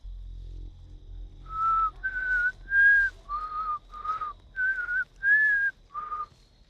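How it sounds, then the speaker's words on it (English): Someone whistles a tune alone in a quiet room: eight clear sustained notes in a slow melodic phrase, each separated by a short breath, close and fairly soft. "Someone's whistling."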